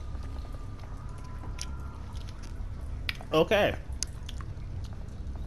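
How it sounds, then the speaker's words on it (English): Intense, wet chewing and squishing in the game Watch Dogs: Legion, a short burst of loud mastication rising over quiet background ambience, with a brief spoken word nearby. "Yeah, intense chewing."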